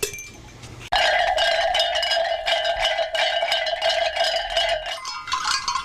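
Sheep bells shaken by hand at an ethnographic fair, a dense, continuous metallic clanking and jangling in quick uneven rhythm, loud and close, with no voices.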